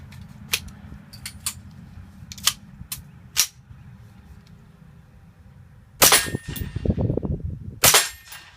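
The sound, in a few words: gunshots from Kel-Tec CMR-30 .22 WMR rifle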